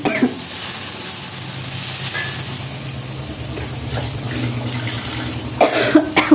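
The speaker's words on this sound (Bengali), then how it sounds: "বাবারে কি কাশি হচ্ছে" A person coughing in a kitchen while cooking tomatoes, a few harsh coughs and throat clearing near the end over a steady hiss of steam or sizzling from the pan.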